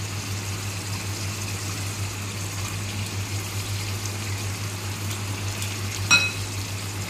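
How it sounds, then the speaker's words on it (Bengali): Yogurt-marinated chicken drops into a pan of spice masala for a red chicken curry, giving a steady, even sizzle throughout over a low hum, with one brief clack of a utensil near the end. "এই যে চিকেনটা ছেড়ে দিচ্ছি।"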